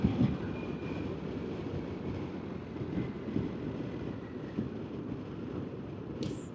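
Steady rushing wind buffets the microphone with a low engine drone beneath as a 2025 Harley-Davidson motorcycle cruises at highway speed, a continuous close roar with no talk.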